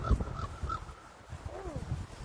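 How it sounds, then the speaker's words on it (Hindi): A large black crow caws outdoors near the water as a boat approaches, a few harsh calls spaced apart at moderate distance, with faint background noise and a brief low voice. "वो तो काला कौवा। कौवे कितने बड़े हैं यहाँ पर"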